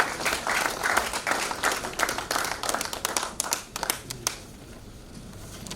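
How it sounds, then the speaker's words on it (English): Audience at an International Women's Day ceremony clapping: dense, sustained applause that thins toward the end into a few scattered claps and quiet room noise. "Another round of applause for her, please."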